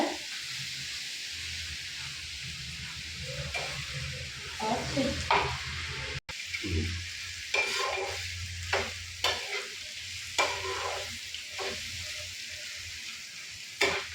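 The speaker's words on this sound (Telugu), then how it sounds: "ఇలా ఒక 5 మినిట్స్ కలుపుకోవాలి" Grated raw mango and peanuts for mango pulihora are stirred in a pan over a low flame, with a steady soft sizzle and repeated scraping strokes of a spoon for about fourteen seconds and no talking.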